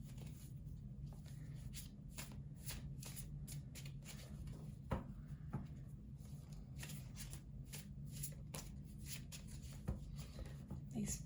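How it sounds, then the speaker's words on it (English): Tarot cards shuffled by hand in a steady run of crisp riffling flicks and soft slaps, fairly close, with a low steady hum underneath and no voice over them. "In this particular style of shuffling that I'm doing right now"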